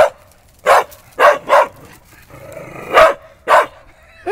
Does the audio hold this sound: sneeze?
no